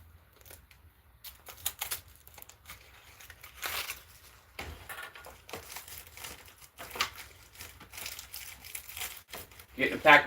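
A cigarette pack being opened, its cellophane wrapper crinkling and tearing in sharp bursts, close and fairly loud.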